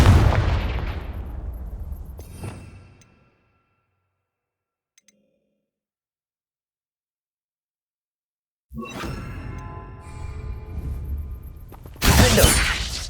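A Confringo blasting spell in Hogwarts Legacy bursts with a sharp, explosive crack and debris rattling away into silence, then more clattering impacts and a final loud blast follow after a long quiet gap.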